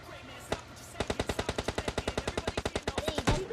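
Video game gunfire: a single shot, then a steady rapid burst of automatic fire, about twenty evenly spaced rounds, loud and close with no talk.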